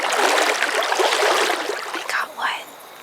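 A river flows in New Zealand, giving a continuous close rush and trickle of water that eases slightly toward the end, with faint breathy sounds mixed in.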